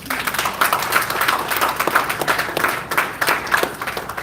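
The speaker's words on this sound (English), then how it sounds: "Please give yourselves a huge round of applause." Alumni gathered at an event called The Amphi Nights break into loud sustained applause, with many hands clapping in a dense, continuous crowd wash that holds steady for several seconds, with no talking.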